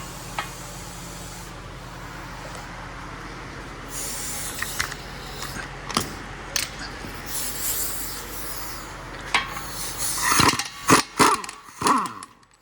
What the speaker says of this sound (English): before we remove this one, we're gonna remove the CV axle nut. We're using a 32 millimeter.